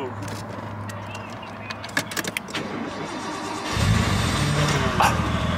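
A JDM Nissan RB engine in a right-hand-drive car cranks and catches, settling into a steady rumbling idle after a few seconds of quiet cabin noise with light clicks.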